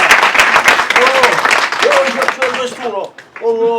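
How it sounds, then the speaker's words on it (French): An audience applauds a performer arriving on stage at an amateur adult theatre class's end-of-year show in Paris, broad clapping mixed with voices talking over it, thinning out toward the end. "Ce soir, nous accueillons Robert, on l'applaudit."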